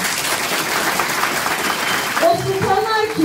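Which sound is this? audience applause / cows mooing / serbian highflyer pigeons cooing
audience applause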